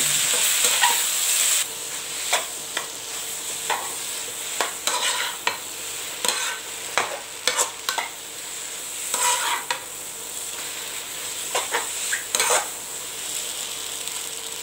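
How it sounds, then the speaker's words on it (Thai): Glass noodles stir-fried with egg, cabbage, meatballs, grade-A pork, tomato and coriander, a steady loud sizzle with repeated scraping spatula strokes against the pan, close up and without speech. "ไข่นะครับผัดกับกะหล่ำปีครับใส่ลูกชิ้นนะเนื้อหมูเกรดเอครับนี่วุ้นเส้น"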